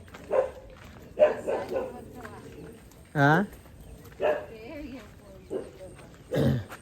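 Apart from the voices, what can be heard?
dog barking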